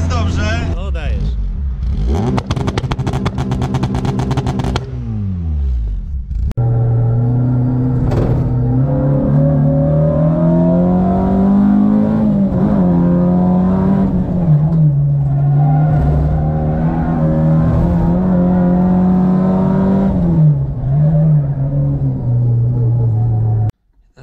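A tuned Opel Astra pulls out onto the road and accelerates, its engine rising and falling in pitch through several gear pulls, loud and close inside the cabin, with an earlier burst of revving.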